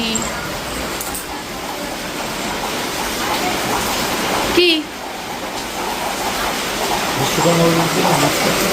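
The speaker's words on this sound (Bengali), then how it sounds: "এদিকে বৃষ্টি শুরু হয়ে গেছে বিশাল বৃষ্টি" Heavy monsoon rain pours outside a home kitchen as a dense, steady hiss, with a brief clatter midway and a voice talking faintly underneath at times.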